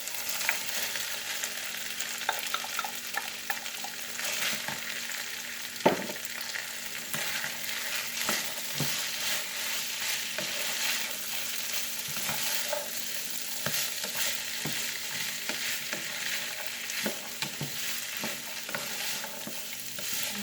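Ground beef and diced carrots frying in a pan, a steady low sizzle with frequent clicks and scrapes of a utensil stirring, close and moderately quiet with no speech.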